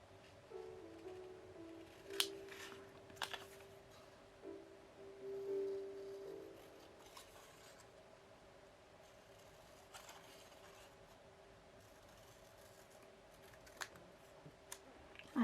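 Quiet scissors snip out paper wall decor pieces for a book nook, giving a few scattered sharp cuts and soft paper rustles over a low steady hum, with no talking.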